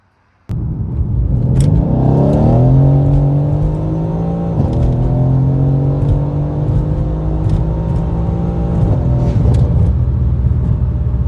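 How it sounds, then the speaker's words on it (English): A tuned car pulls away and accelerates through the gears, its engine loud and close, with rising revs broken by brief shift pauses over about ten seconds and no talking. "So now let's go drive this thing."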